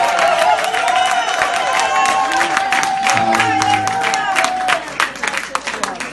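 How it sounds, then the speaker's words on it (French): A congregation at a French-language healing testimony service cheers, whistles and applauds loudly and continuously, voices and clapping blending into one roar that thins out near the end. "Non, acclamons plus fort pour Jésus."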